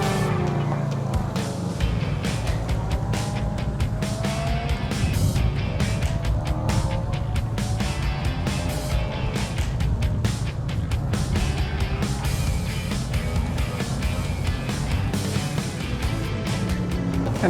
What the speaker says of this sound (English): we've got all kinds of vehicles here, Jeeps, we've got Fords, Nissans, Kias. They're all out on this off-road track.